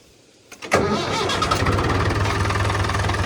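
An old farm tractor engine cranks briefly and catches, then settles into a steady, loud, close running idle with a low rhythmic thrum and no talking.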